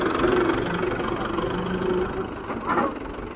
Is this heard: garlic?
no